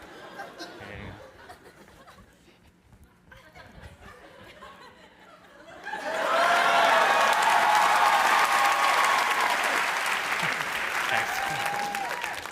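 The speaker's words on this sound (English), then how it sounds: "Give it a round of applause." Studio comedy audience breaks into loud, sustained applause mixed with some laughter and cheering, rising abruptly after a quieter stretch of murmuring and holding steady to the end.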